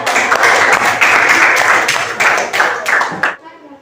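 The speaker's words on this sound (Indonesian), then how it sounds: "Iya, tepuk tangan untuk kelompok 1." Classroom applause for a student group after a presentation, a dense steady burst of many hands clapping for about three seconds before cutting off abruptly.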